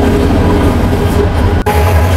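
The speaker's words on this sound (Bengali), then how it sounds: "ট্রেন তার বগি থেকে আলাদা হয়ে গেল।" Train rumbling steadily on the rails as the engine uncouples from its carriages, a continuous loud low rolling drone with a brief dip near the end.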